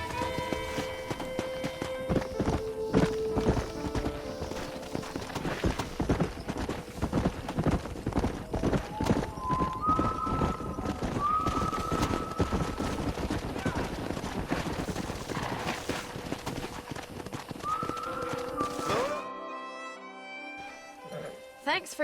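Horse hooves clip-clop at a walking pace in Red Dead Redemption, steady and close, with game music tones and occasional voices over them before the sound cuts off near the end.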